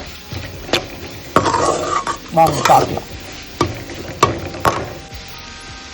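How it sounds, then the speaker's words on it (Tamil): Onions sauté in a pan for a bitter gourd fry, a steady sizzle broken by repeated clinks and scrapes of a spoon stirring against the pan, with a brief spoken phrase over it. "இந்த வெங்காயம் நல்லா கோல்டன் கலர்ல வதங்கட்டும்."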